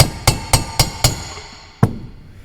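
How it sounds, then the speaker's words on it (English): Five evenly spaced metallic hammer blows on a part during a John Deere planter rebuild, then a short pause and one final strike, each hit loud and close with a brief ringing decay. "let's hit it with a hammer"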